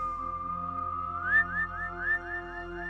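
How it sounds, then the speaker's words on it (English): A clear, sustained whistle rises and wavers in a few looping swoops across a canyon over a low droning background, fairly loud and steady. "A haunting whistle sounded from one side of the canyon and was answered from the other side"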